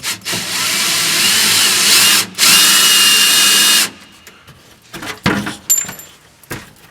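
A power drill whines loudly in two long bursts drilling out rivets in a metal chassis, then stops, followed by clinks and knocks of metal being handled.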